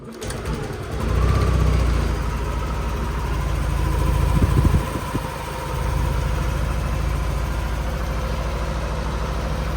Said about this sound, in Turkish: Şöyle bir marşa basalım.